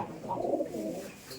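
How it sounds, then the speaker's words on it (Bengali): Giribaz pigeons at a pigeon farm give a soft, low cooing burst, faint and fairly near, with no talk over it. "এই যে হাসান ভাইয়ের খামারে কবুতর সব এক কোয়ালিটি"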